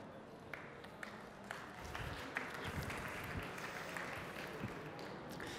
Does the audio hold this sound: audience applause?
yes